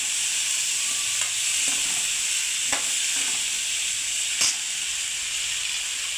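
Colourful mixed vegetables, including beans and carrot, frying in hot oil with spices in a pan, a steady soft sizzle and hiss with a few faint clinks of stirring, no talking.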